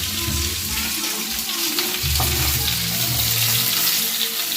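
Pangas and tengra fish pieces frying in hot oil, a dense continuous sizzle heard up close and loud, with a faint low hum and a light knock partway through.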